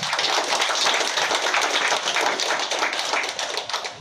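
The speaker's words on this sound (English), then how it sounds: "A very big round of applause." A dense, steady round of applause from a large crowd at a bank branch opening in Chennai, loud and continuous throughout, easing off slightly toward the end.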